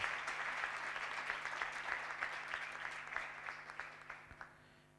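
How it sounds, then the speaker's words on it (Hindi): A crowd claps steadily, a dense patter of hands that gradually thins and fades toward the end, fairly distant and quiet. "जोरदार तालियों में कलाम को वेलकम करें।"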